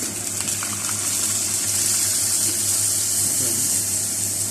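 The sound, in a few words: water being poured into mutton karahi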